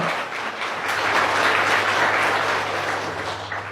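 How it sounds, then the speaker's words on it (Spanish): A church congregation at an evangelical sermon claps steadily, a moderately loud wash of applause swelling and fading over a low background hum. "Y que aplauda al Señor."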